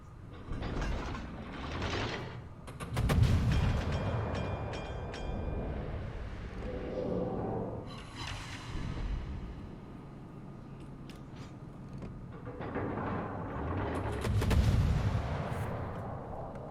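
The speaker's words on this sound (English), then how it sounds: "you can shoot AP into the side" World of Warships naval gunfire: Tallinn's AP shells fire in heavy booming salvos, several deep blasts spread across the stretch with mechanical clanks and rumbling background, loud and close, no talking.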